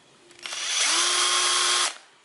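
A battery-powered cordless drill, one of a pile of drills for sale in a DIY parts shop, whirs up, runs at a steady high whine for about a second, then stops, close and loud without talk.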